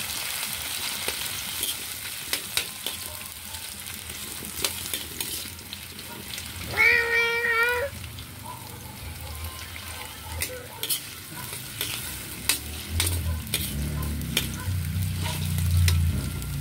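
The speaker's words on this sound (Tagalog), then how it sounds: "malapit nang mag-brown yung ating luya" Ginger frying and being stirred in a pan while cooking golden snail in coconut milk, with a soft continuous sizzle and faint scraping stirs; a brief high-pitched cat-like cry cuts in partway through.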